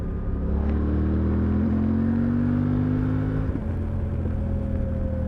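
A Suzuki V-Strom 800DE motorcycle engine pulls hard from low revs, a loud, close, steady droning growl rising in pitch before easing off near the end, with no talk over it.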